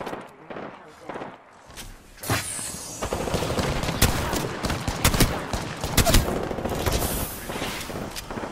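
Sustained gunfire in a video game, rapid bursts and sharp shots layered over one another at close range, with a voice speaking over the shooting.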